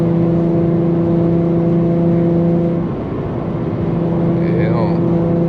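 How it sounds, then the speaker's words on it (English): Loud exhaust drone from an Infiniti G35 coupe fitted with a Vibrant resonator, a steady low humming tone heard from inside the car during a drive, wavering briefly midway before settling back into the same drone. "I love the vibrant resonator, and I love the drone sound a little bit, because it kind of sound like a race car"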